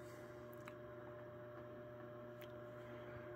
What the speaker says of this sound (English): And that buzzing sound you hear is the globe.